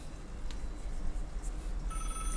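A telephone rings in the Five Nights at Hololive fan game, a faint electronic ring tone entering toward the end over a low background hum.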